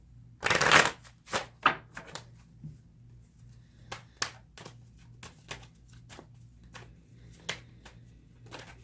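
Tarot cards being shuffled by hand during a reading, opening with a loud riffle burst followed by a steady patter of soft slaps and flicks as the deck is mixed, close and quiet, without talk.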